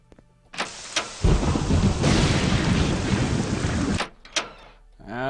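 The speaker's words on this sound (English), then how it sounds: "That's a severe thunderstorm. I'm getting all wet, too." A severe thunderstorm with rain in The Elder Scrolls: Legacy: a loud, close crack of thunder rolls into heavy rumbling and rain hiss for about three seconds, then cuts off, with brief speech before and after.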